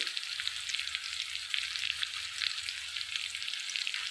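Chicken sizzling steadily in a pan with ginger paste and turmeric as it is stirred, a constant close crackling hiss with faint scraping and no voices.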